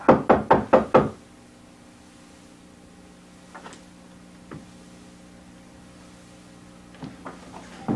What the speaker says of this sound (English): Sam, there is somebody at the door